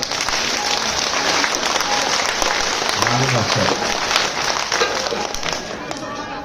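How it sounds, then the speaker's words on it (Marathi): A crowd at a devotional powada performance claps loudly and continuously, a dense, sustained wash of applause with a voice briefly heard within it. "आणि जोरात टाळी वाजवा"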